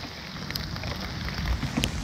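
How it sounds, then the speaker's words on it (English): Rain falls steadily on a farm during a wet spell, a dense, even patter with occasional louder drops standing out, close and continuous for a couple of seconds with no voices. "Every time we get it going, the rain picks back up."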